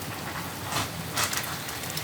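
Steady rain pours down on an overcast day in Oman, an even close hiss of drops on surfaces with a couple of slightly louder splashy swells.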